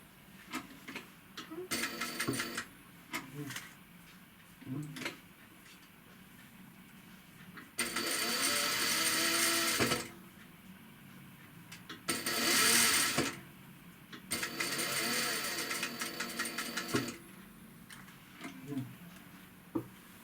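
A sewing machine stitches lace onto a white blouse in several short bursts of a few seconds each, separated by quieter handling sounds and intermittent talking.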